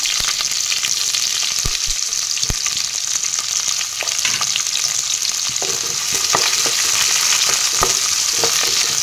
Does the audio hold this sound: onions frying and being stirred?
yes